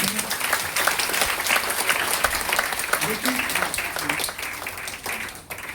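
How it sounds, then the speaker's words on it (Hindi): An audience at a motivational talk claps steadily and loudly for several seconds while a speaker's voice carries over the applause. "ताली बजा दीजिए उनके लिए।"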